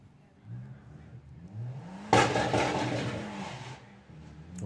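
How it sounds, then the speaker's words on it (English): A 20-valve turbo VW Lupo takes off hard at a Bug Jam drag event, its engine bursting into a loud, rising roar after a low idle, while commentators talk over it. "He's going to be taking on Danny Bean with the little 20-valve turbo Lupo"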